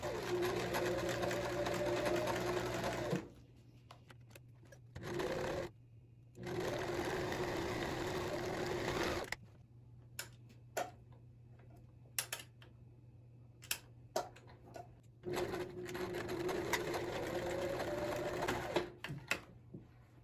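An electric sewing machine stitching a seam, running in bursts of steady whirring hum, alternating with quiet pauses filled by small clicks and handling taps.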